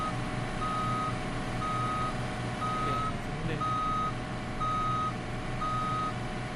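A giant mining dump truck in BeamNG.drive backs up with a steady, evenly spaced reversing beep repeating about once a second over a loud, rumbling diesel engine drone.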